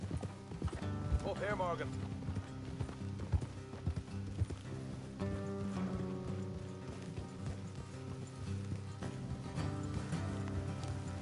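Horses in Red Dead Redemption 2 clip-clop along at a lively pace, hooves thudding close under a music score, with a brief whinny and someone speaking over the riding.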